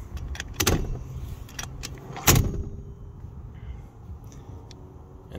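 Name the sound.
folding the seat in a 1997 Honda Odyssey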